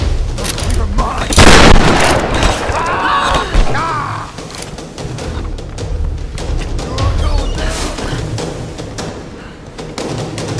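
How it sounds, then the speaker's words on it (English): Gunfire in Tomb Raider: Definitive Edition, a heavy burst of shots and booms early on followed by scattered thuds and mechanical clatter, loud and close, with a voice talking partway through. "Sounds like they got guns."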